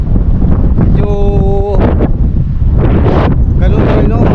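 Strong wind buffeting the microphone at a fishing spot on the water where a large ship has arrived, loud rumbling gusts that come and go, with a brief horn-like tone and a voice speaking over it.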